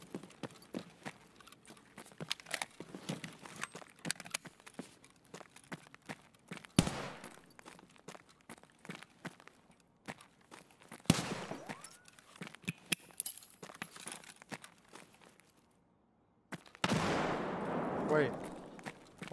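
A grenade blast in Escape From Tarkov, a loud broadband burst near the end that stands out from the quieter gunfire and movement clatter before it, following a brief lull.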